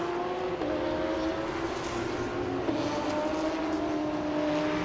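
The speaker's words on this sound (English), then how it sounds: "These cars are flying around Buriram right now." Race cars speed around the Buriram circuit, a steady engine whine droning at a distance with slight pitch shifts as they pass, continuous and moderately loud.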